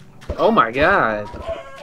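A chicken in a video game gives a short, loud burst of clucking with harmonic squawks, close and clear for about a second, with faint background game noise around it.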